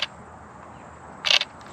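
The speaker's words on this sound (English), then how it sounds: "Here's that shutter sound." A Canon M50 camera fires its full mechanical shutter twice, a short crisp click at the start and a fuller double-clack near the end, close and distinct against a quiet room.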